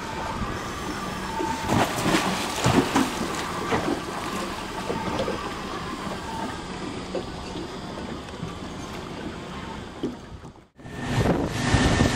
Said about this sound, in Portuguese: Oceano Pacífico de background